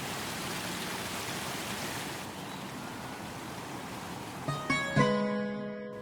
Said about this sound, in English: This is actually a spring-fed creek